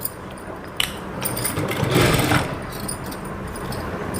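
A sewing machine stitches fabric, its motor whirring in a steady run that swells louder in the middle and then settles. A sharp click is heard near the start.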